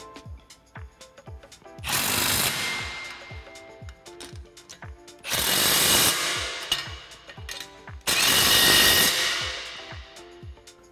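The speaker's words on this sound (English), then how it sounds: "Now we can go ahead and tighten up these front clamps with our 15mm socket." Power tool with a 15mm socket tightening exhaust clamps on a 2015-2017 Mustang GT cat-back exhaust, heard as three loud close bursts of whirring and rattling, with lighter clicks and knocks between them.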